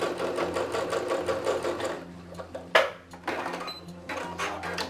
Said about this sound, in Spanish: ahí voy con puntada recta, también por el borde con el prensatela de bordado libre